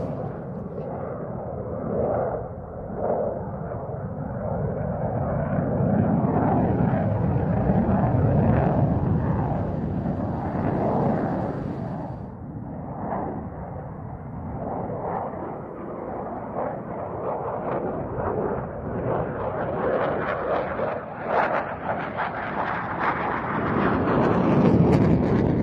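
An F-18 Hornet jet roars continuously overhead during an airshow display of loops and pirouettes, a broad, rumbling, distant-to-near engine wash that swells and fades across the whole stretch without speech.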